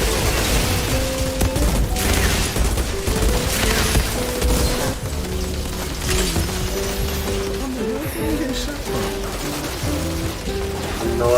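Turret gunfire in the video game Outriders rattles in rapid bursts through a busy, loud mix of clanking game effects and music, continuous and fairly close.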